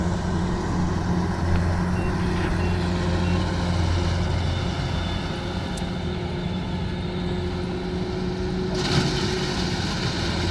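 A Kubota DC-105X combine harvester's engine drones steadily and loudly nearby as the machine moves off, a constant low hum with a faint higher whine and no voices.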